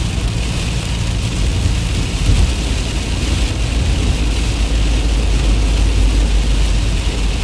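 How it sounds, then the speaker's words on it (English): Steady rain falls during an Ohio storm, heard from inside a moving vehicle as a dense, continuous broadband hiss over a low road and engine rumble, with no talk. "Now just kind of a steady rainfall here."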